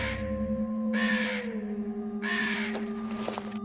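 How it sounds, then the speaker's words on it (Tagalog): Three harsh, raspy bird calls sound like a crow cawing, spaced about a second apart, over a steady low hum. "Yun yung huni ng ibong narinig ko noong nakaraang gabi ha."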